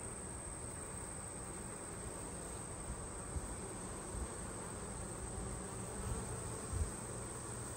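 In a bee yard, bees hum as a continuous dense drone, steady and moderately faint, with a few light bumps and rustles nearby and no voices.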